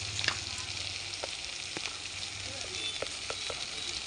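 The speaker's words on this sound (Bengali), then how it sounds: "এই মশলাটাকে এরকম ভালো করে ভেজে কষে নেব।" Masala fries in a pan with a soft, steady sizzle, broken by occasional sharp clicks and scrapes of a spoon stirring; close but fairly quiet, with no talking.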